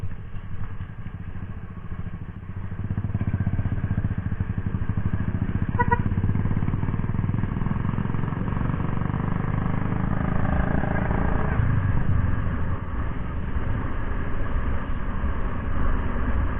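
Motorcycle riding through traffic on a road near tourist spots in West Subang, Indonesia, with a steady engine drone and road rumble close by, other vehicles mixing in throughout and no talk.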